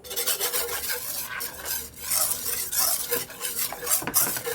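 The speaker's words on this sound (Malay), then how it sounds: "Okey, kita kacau dulu." A spoon scrapes and swirls through a rice flour batter with a pinch of salt in a wok, making continuous close, gritty rubbing strokes with brief pauses and no talk.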